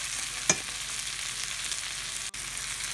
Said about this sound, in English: I'm just going to kind of baste them a little bit in this butter after it gets a little brown